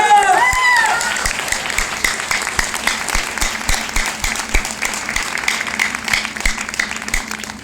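Audience at a business seminar in Jamui, Bihar, breaks into loud sustained applause, dense clapping from a crowd that tapers slightly but continues throughout.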